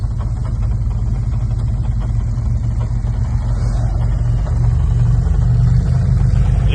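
A truck engine rumbles loud and steady, low and continuous, growing slightly stronger toward the end as the vehicle is driven forward slowly to attempt a jump.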